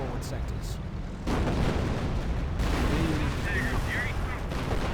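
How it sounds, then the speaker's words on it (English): In Company of Heroes, a creeping artillery barrage shells a short-barrel Panzer IV tank, heavy booming blasts swelling into a dense, continuous roar of impacts, fairly loud and close. "looks like the short barrel Pants 4 is just getting shelled really badly from the creeping barrage"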